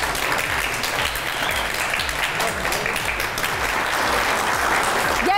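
An audience claps steadily and densely throughout at a youth house event, loud and continuous with no pauses.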